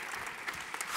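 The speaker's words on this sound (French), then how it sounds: "Merci à la Lily, un tonnerre d'applaudissements." Audience applause at a community talk on ecological transition, a short burst of fairly faint clapping from the room.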